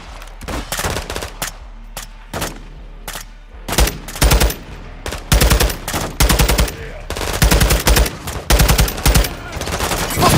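Machine gun cover fire in Call of Duty Modern Warfare 2 comes in loud, close bursts of rapid automatic shots, the pauses between them shrinking as the firing grows nearly continuous toward the end.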